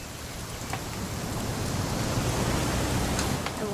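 Steady rain falls in the video game What Remains of Edith Finch, a dense, even hiss of drops that holds at the same level throughout, with no voices.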